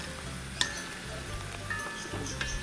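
Onde-onde frying in hot oil while being stirred, a soft steady sizzle with occasional clinks of a utensil against the pan.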